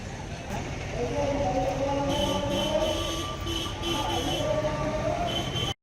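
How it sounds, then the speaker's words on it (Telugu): A train arrives at a station, its loud steady rumble and squealing wheels heard at close range, with a few faint voices around it. "ట్రైన్ వచ్చింది."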